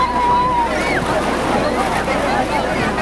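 Sea waves rolling in at Digha beach, a broad steady wash of surf with wind noise on the microphone, loud and continuous, with faint voices in the background.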